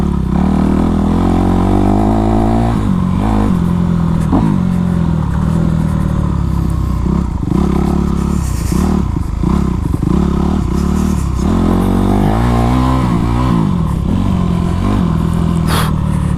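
A Honda CRF450 dirt bike rides laps on a track, its engine loud and close, rising and falling in pitch through repeated revs and gear changes, with occasional clatter and scrapes over a constant droning roar.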